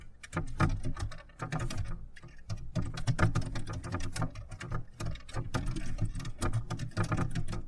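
Close, rapid keyboard typing on a computer, a dense patter of light plastic key clicks with short breaks, steady and unaccompanied by talk.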